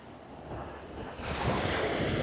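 Sea waves washing onto Heybeliada beach, a continuous rushing surf with wind noise buffeting the microphone, swelling louder midway through.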